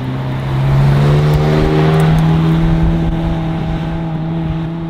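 A car rolls past at the TX2K drag racing event, its engine a steady loud drone that swells as it nears and holds through the pass before easing slightly, with rich low harmonics.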